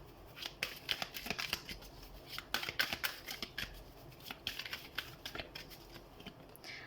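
A tarot deck shuffled by hand during a reading, a quick continuous run of riffling card flicks and slaps, close and fairly quiet, with no voice.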